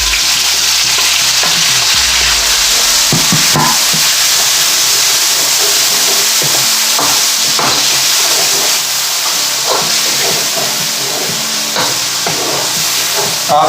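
Tomatoes tipped into a pan of fried garlic for a mash daal, a loud sudden sizzle that settles into steady hissing frying with occasional stirring scrapes, no talking.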